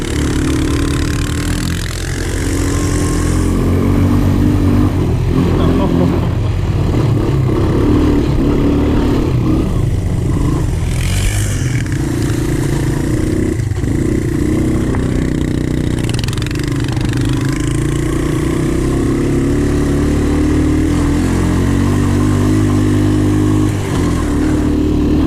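A Honda TRX450 ATV engine revs and churns through snow, a dense, loud mid-pitched drone with rising and falling throttle surges, close and continuous.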